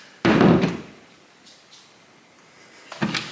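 A glass door in an empty house swings shut with one loud close near the start, followed by a quieter second knock a few seconds later, with room tone between.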